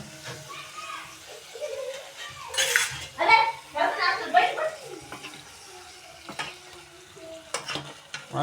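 Tomatoes and onions frying together in a pan, with bursts of stirring and scraping over a soft sizzle, a few light clinks of utensil on metal, and brief background voices.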